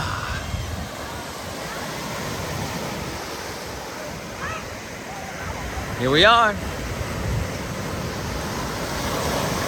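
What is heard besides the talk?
ocean waves on Jersey Shore beach, Asbury Park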